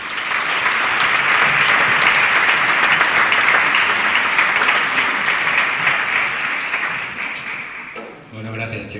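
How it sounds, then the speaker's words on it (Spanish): Loud, sustained applause from a large crowd at a talk in Cáceres, steady clapping for several seconds before it starts to fade near the end. "Un fuerte aplauso para José Manuel Torrado."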